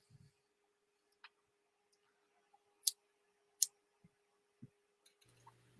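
Sharp, isolated clicks from the button on a red dot gun sight come at irregular intervals, crisp and close, over a faint steady hum with a few soft knocks.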